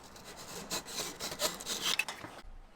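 A hand saw roughly cutting the taper on a wooden deck strip for a paddleboard, several quick rasping strokes in a close, dry rhythm before stopping abruptly.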